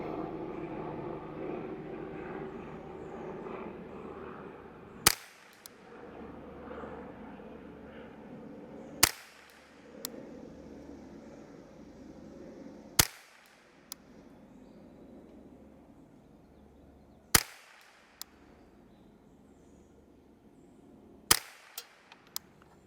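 Volquartsen Oryx .22LR semiautomatic rifle firing a five-shot group outdoors, five sharp cracks spaced several seconds apart over a steady aircraft drone, with a few faint clicks between shots.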